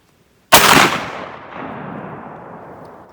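A single loud 12 gauge shotgun blast firing a 7/8 ounce hunting slug at an outdoor range, sharp and close, followed by a long rumbling echo that fades over a few seconds.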